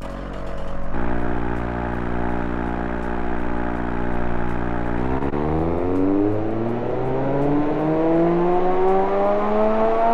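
A loud, buzzy flatplane V8 engine in the Automation video game holds a steady idle, then revs up with a smoothly climbing pitch, sustained and close.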